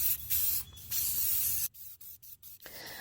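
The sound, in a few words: spray painting a water tank black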